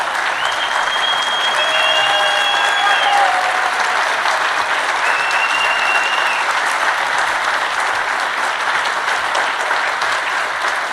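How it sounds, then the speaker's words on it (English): An audience at an artist Q&A gives sustained, loud applause for the people on stage, a thick unbroken wash of clapping with scattered whistles and cheers. "please give a round of applause to these incredible people sitting here on this"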